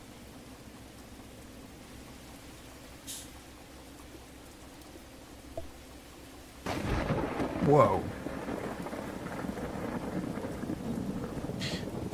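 Thunder rolls in during a rainstorm in the train simulator game Derail Valley, quiet steady rain first, then a sudden loud rumbling crack that lingers under heavier rain, with a man's brief exclamation.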